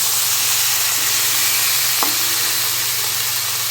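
Chicken pieces frying in very little oil in a pan, a steady close sizzle and hiss running throughout with one brief clack partway through, no talking.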